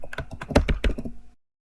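Quick clattering keystrokes on a computer keyboard while entering a username and password, about a dozen close, crisp taps in an uneven burst before stopping.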